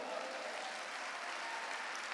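A church congregation at a Sunday service claps together in a brief, steady round of applause that holds evenly and softly from start to finish, with no voices over it.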